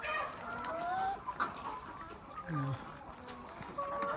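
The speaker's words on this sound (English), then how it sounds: "So most of these birds just started laying." Laying hens clucking inside a poultry house in Ghana, scattered soft clucks and calls from several birds at moderate distance, mixed with a person talking.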